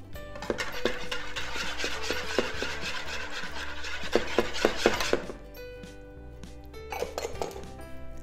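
Banana pancake batter stirred in a bowl: rapid, regular clinking taps of a utensil against the bowl, steady for several seconds, then a pause and a short final burst, close and without talk.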